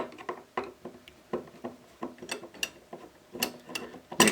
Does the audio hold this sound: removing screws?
yes